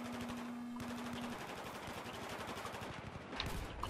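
Rapid automatic gunfire in the video game Battlefield 4, with dense, continuous bursts of shots and a few louder cracks near the end, loud and close, without talk.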